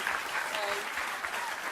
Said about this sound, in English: let's all give her a hand of applause and let her feel the love